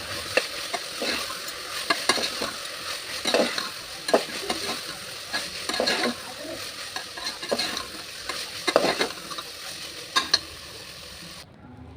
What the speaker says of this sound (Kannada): ಇದಕ್ಕೇ ಧನಿಯಾ ಪುಡಿನ ಹಾಕೋತಾ ಇದ್ದೀನಿ ಇದನ್ನು ಕೂಡ ಸ್ವಲ್ಪ ಹೊತ್ತು ಫ್ರೈ ಮಾಡ್ಕೋಬೇಕಾಗುತ್ತೆ